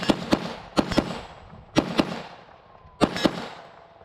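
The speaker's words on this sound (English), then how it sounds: "I'm gonna put a couple more rounds through this thing, just see how the compensator works" Sharp rifle shots from a Leadstar Grunt AR15 fitted with a compensator, fired outdoors in quick pairs, four doublets spaced about a second apart, each crack loud and close with a short echo.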